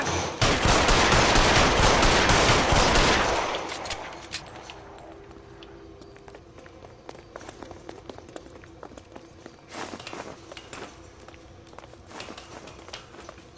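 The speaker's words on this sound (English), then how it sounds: "Cole Phelps shooting it." A loud, dense burst of gunfire from the L.A. Noire video game, with Cole Phelps shooting during a police standoff, fills the first few seconds and then breaks off, leaving quiet scattered clicks and thuds.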